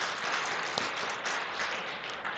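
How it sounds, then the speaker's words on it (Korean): Moderate, steady applause from a Sunday morning church congregation welcoming newly registered members, a soft continuous patter of many hands heard somewhat distantly without speech. "우리가 박수로 환영해 주시죠."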